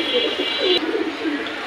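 Caged pigeons coo in low, rolling phrases close by, with a steady high hiss in the background and a sharp click partway through.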